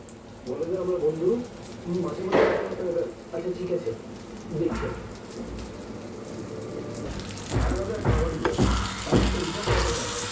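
Thick eggplant slices fry in a pan of oil with a steady crackling sizzle and occasional stirring scrapes, while people talk over the cooking sounds.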